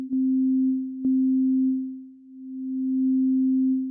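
Steady sustained tone from the Dexed FM synthesizer with a slowed attack, a pure, sine-like pitch that swells in gently, dips once and rises again, with faint clicks at the start and near one second.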